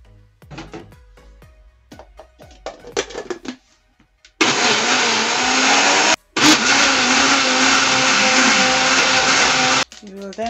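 Rough speech and kitchen clatter give way to a loud, continuous whirring blender puréeing butternut squash soup, running about five seconds, briefly cutting out, then roaring again until it stops.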